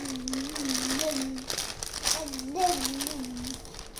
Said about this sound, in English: here I am going to take this Ziploc bag